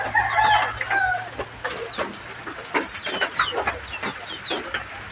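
Backyard chickens cluck and a rooster crows nearby on a rural farm, with steady overlapping clucks and calls that stay fairly loud and close throughout.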